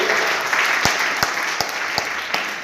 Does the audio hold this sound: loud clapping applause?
yes